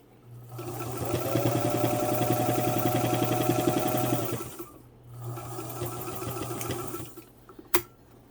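A 1941 Singer 66 sewing machine with a freshly cleaned motor runs steadily in a close, loud hum for about four seconds, pauses, then runs again more quietly, ending with a sharp click.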